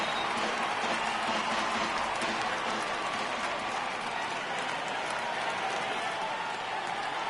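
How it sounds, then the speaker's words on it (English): A baseball stadium crowd roars in a broad, continuous wash of cheering and clapping that holds at an even, loud level, with some talk mixed in beneath. "Crowd gets up for the 3-2"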